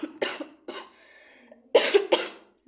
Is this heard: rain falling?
no